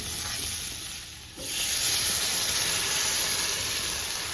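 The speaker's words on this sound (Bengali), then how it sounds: "এবার আমি এর মধ্যে জল দিয়ে দেবো।" Water poured onto taro frying in hot oil, a quieter sizzle that suddenly erupts into a loud, hissing roar of steam and bubbling which then holds steady.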